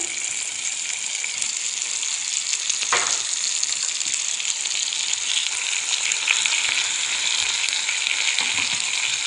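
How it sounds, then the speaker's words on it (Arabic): Onions sizzle steadily in a hot pan for a puff-pastry coca pizza filling, loud and close, with a brief change in the sizzle as tomatoes are added. "بعد ما تقلى البصل. الان نضيف طماطم"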